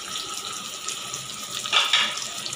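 Chopped onions going into very hot oil in a pan for chicken korma give a steady broadband sizzle and hiss, close and moderately loud, swelling briefly as they land, with no talk.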